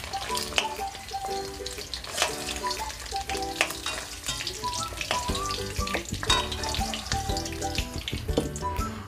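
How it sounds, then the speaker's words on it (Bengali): Cut potatoes frying in hot oil after the eggs crackle and sizzle steadily, with frequent clinks and scrapes from stirring throughout. "আমি আবারও ওই তেলে দিয়ে দিচ্ছি কেটে রাখা আলু, দিয়ে আবারও আমি নাড়াচাড়া করে আলুগুলোকে ভেজে নেব"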